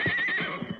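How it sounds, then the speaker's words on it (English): A horse gives one short, close whinny with a rising then falling cry, and faint hoof sounds follow. "Silver's seen another horse, Tonto."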